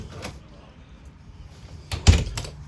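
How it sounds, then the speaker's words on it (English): A magnetic pocket door in a Salem 29-foot quad-bunk travel trailer slides shut, with a faint early click, then a sharp close and catch near the end, quite close and loud. "There is a pocket door. This will close all the way. It's magnetic."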